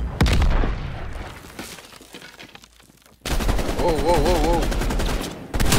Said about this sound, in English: Bro, who's shooting the rockets, though, bro?